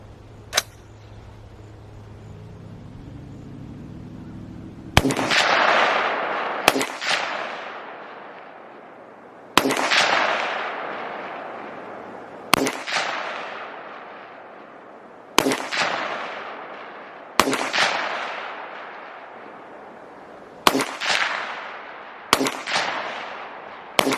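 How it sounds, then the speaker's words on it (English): Rifle shots fired through a Vortex Crossfire II 4-12x50 scope at a 50-yard target from kneeling and standing positions, outdoors on a range. About eight loud, sharp cracks are spaced irregularly, each with a ringing decay, after a quiet start. "Shooting off of one knee, just kind of shooting from a standing position."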